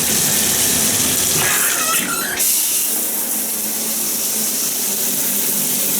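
Water runs steadily from a hotel bathroom shower in a Travelers Inn in Staunton, Virginia, a continuous broadband hiss that holds throughout, with a brief louder splash partway through.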